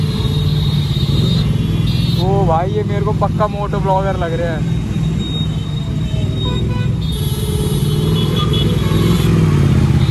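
Royal Enfield Bullet motorcycle engine on a highway, a steady low rumble that runs throughout beneath someone talking in Hindi.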